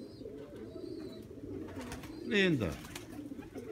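Pigeons keep up a low, rolling coo in the rain, then one call swells loud and close before fading, while someone speaks briefly over it.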